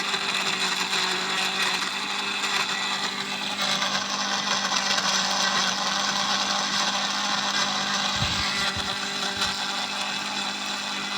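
A blender whirs loudly and continuously as it grinds chilies, its motor grinding steadily with a brief change in pitch partway through and a few low thumps near the end.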